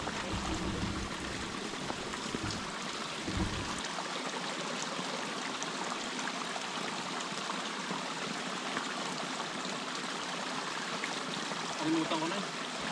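A mountain stream flows in a steady, close rush of water on Mt. Polis in Bauko, Mountain Province, with people talking briefly near the start.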